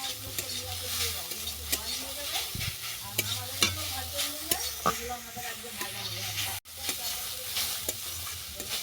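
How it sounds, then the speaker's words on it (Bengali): Grated radish stir-fried in a pan for radish sandesh, a continuous close sizzle broken by repeated scraping strokes of the spatula and a low steady hum beneath. "মূলোটাকে 2-3 মিনিট ভালো করে নেড়ে নেবো।"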